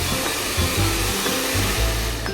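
A hair dryer blows with a continuous close whoosh on its low-speed setting with air mixed between cold and hot, holding a steady tone with faint fluctuations.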